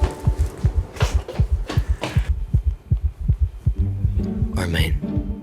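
A heartbeat sound effect thumps steadily in a regular rhythm of close, deep pulses, while soft voices and music murmur in the background.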